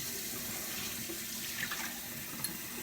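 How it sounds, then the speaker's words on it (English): Kitchen tap running steadily while dishes are rinsed at the sink after cooking an omelet, a soft continuous close splash with faint clinks, no talk. "if you rinse everything, it's so easy to wash"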